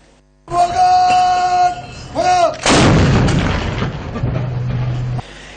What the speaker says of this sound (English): the Sri Lanka Navy honoured the nation with a 25-gun salute at the lighthouse in Galface